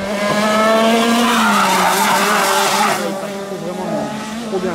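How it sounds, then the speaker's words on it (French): An X30 racing kart slides sideways through a corner at Ploumoguer, its engine a loud, high buzzing whine with a squealing edge that eases off toward the end, while a voice is heard in the background. "le kart il est déjà en train de partir en travers"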